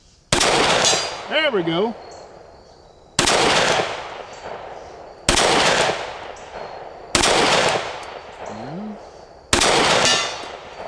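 Five sharp pistol shots from a Sig P365 fitted with a Wilson Combat grip module crack out at an outdoor range, evenly spaced about two seconds apart and each ringing briefly. Someone speaks briefly between shots.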